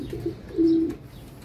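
A captured pigeon with red eyes, held in hand after coming from a market, gives a soft low coo with a short note and then a longer drawn-out one, close and clear against quiet background.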